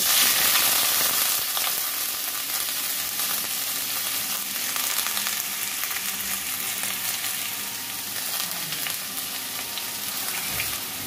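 Sliced potatoes fry in mustard oil with green chillies in a pan, giving a loud, continuous crackling sizzle that holds steady for the whole stretch with no talking.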